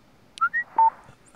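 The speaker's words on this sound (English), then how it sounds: "Now my cell's ringing." A cell phone rings in the mobile horror game Heathcote: three short electronic beeps at different pitches in quick succession, clear and close against a quiet background.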